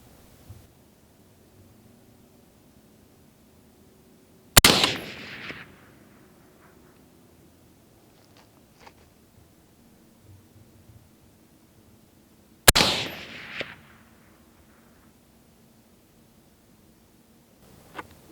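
Two sharp, loud AR-15 rifle shots firing reloaded rounds ring out about eight seconds apart, each a cracking blast trailing into a brief echo, with quiet outdoor ambience between and no talking.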